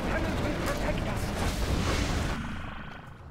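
Cannon fire in a strategy video game: dense, continuous booming and rumbling blasts stack up loudly, then ease off toward the end, with a voice talking over them.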